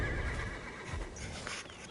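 A horse in a video game (Black Desert) whinnies loudly up close, a shrill drawn-out neigh with faint hoof clatter underneath.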